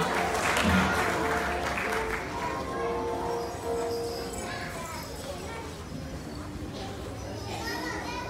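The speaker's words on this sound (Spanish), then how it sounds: "Fuerte el aplauso para ellos." An audience at a school Nutcracker play claps steadily, the applause mixed with children's voices and chatter, then fading into a softer murmur of crowd noise while music tones linger faintly.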